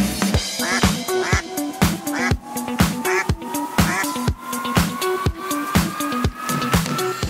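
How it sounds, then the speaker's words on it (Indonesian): A flock of ducks quacks loudly and continuously while being herded across a harvested rice field, many overlapping nasal calls in quick rhythmic bursts, close by. "Sekarang kita lagi angon bebek."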